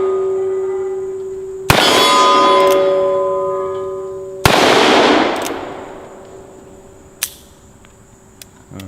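Two sharp gunshots from a Colt Single Action Army revolver fired at a target ring out loud and close, each followed by a long decaying metallic ring, with a couple of faint clicks toward the end.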